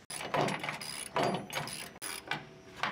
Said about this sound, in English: 5/8 on a ratchet on the front, and go ahead and tighten them all down